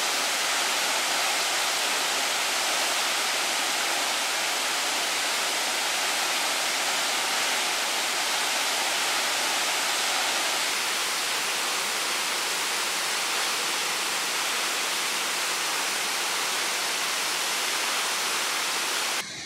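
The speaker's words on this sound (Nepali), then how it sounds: "यो झरना जुन चाहिँ छ, झरनाको त्यो जति बाफ देख्नु हुँदैछ" Bar Changay waterfall in Martam, Sikkim roars in a continuous, broadband rush of falling water, steady and loud from close by with no voices audible.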